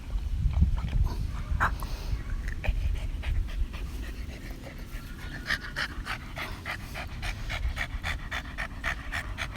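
A Boston Terrier pants rapidly and rhythmically up close, quick breathy puffs repeating through the whole stretch with faint background noise and no talk.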